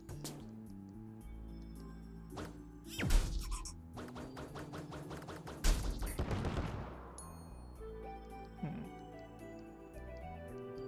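Charged shots fired in CrossCode, a few punchy blasts with ringing tails layered over game music, interspersed with lighter firing sounds.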